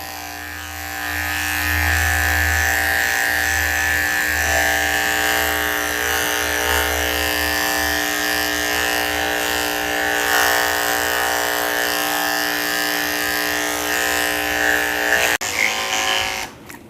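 Electric dog clippers fitted with a 4 blade buzz steadily while shaving a Maltese's chest, a close, continuous motorized hum that holds even for about fifteen seconds before cutting off.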